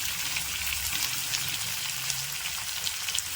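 Chopped tomatoes sauté with salt in a pan for a Tamil raw banana thokku, giving a steady, soft, even sizzle with no voices.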